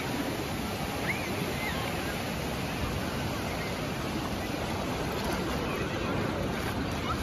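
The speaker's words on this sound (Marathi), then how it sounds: "लाटांचा स्पीड बघा." Ocean waves break on a Konkan beach, a continuous loud roar of surf washing in without pause or clear separate crashes.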